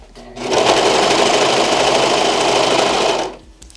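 A sewing machine stitches a satin bonnet in one continuous loud run of rapid needle hum lasting about three seconds, starting and stopping abruptly, close up.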